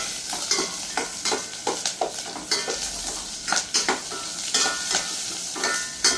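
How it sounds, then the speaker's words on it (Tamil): Onions sauté in a pan over low heat, a continuous sizzle punctuated by brisk, rhythmic scraping and clinking of the stirring spoon against the pan, close and fairly loud. "நல்லா வெங்காயம் வதங்க வேணும்."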